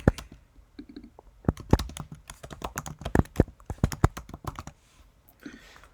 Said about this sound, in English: I'll type that down here